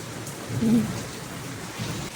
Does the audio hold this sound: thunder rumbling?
yes